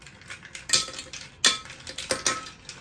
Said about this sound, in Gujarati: એમાં આઈસ ક્યુબ નાખશું. લગભગ 7 થી 8 આઈસ ક્યુબ નાખશું.